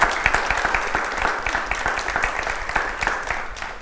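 An audience applauds a pitch contest speaker named Eli: dense, steady clapping from a crowd, loud and continuous for a few seconds with no voices over it.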